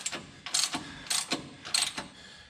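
A ratchet wrench snugs down the nut on a steering shock bolt of a Dodge Ram 2500/3500 heavy-duty truck, sounding as three quick bursts of close, rasping ratchet clicks with short pauses between them.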